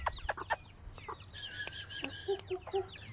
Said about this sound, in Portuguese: Olha os galinhos ali, ó. Os pintinhos.